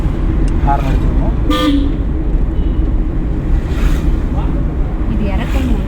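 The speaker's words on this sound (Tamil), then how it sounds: "ஹார்ன் அடிச்சுக்கணும்." Car horn sounding during a driving lesson: a short, clear honk rises once over steady road and wind noise inside the moving car, with faint follow-up toots later.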